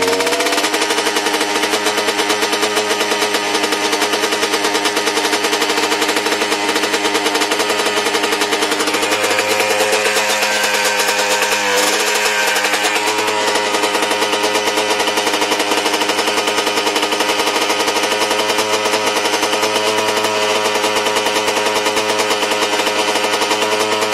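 Loud, close, rapid popping rattle of a flooded two-stroke engine idling and being held at throttle to clear out, running continuously with a slight rise in pitch partway through.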